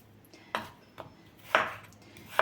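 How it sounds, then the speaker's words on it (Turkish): Four sharp knife strikes on a cutting board chopping raw chicken, spaced about half a second apart, close and fairly quiet against a faint background hum. "İlk önce böyle tavuklarını doğrayayım."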